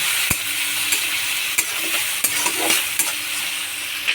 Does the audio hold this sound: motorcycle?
no